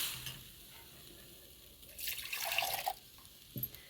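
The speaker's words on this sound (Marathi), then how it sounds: "मी अजून थोडंसं पाणी टाकते" Water poured into a thin dill (shepu) vegetable curry in a pan makes a short, soft splashing burst midway through, otherwise quiet, with a faint clink near the end.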